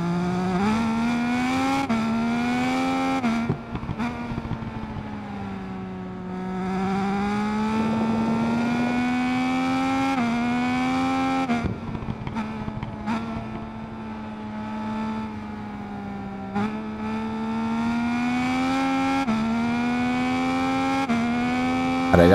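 Triumph racing motorcycle engine in the video game Ride 5, a loud, sustained high-pitched whine rising and falling through gear changes as the bike accelerates and brakes around a track, heard up close with no talking.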